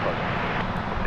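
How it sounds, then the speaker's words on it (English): Spirit Airlines Airbus A320neo jet engines roaring steadily at close range on a DFW Airport runway as the aircraft begins its takeoff, a dense, constant broadband rumble with no break. "That Spirit plane, Flight 2919 to Las Vegas, an Airbus A320neo, is about to take off."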